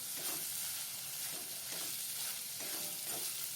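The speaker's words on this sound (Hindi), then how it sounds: "अब उसमें डालेंगे रोस्टेड बेसन, मिक्स कर लेते हैं" Roasted besan being stirred into a sizzling yam (suran) curry in a pan, soft repeated scraping strokes over a faint continuous fry, quiet and close with no talking.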